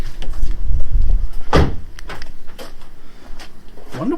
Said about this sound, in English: hang on, shut the door